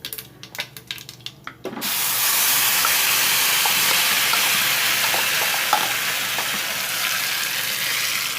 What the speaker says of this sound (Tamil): நல்லா இந்த எண்ணெயில் கலந்து விட்டுக்கோங்க